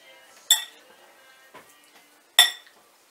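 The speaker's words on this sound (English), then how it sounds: "Now, just to mix it up, and that's my salad." Tuna salad is mixed in a bowl, heard as three sharp clinks of a utensil against the dish, two loud and one softer, spaced over a few quiet seconds.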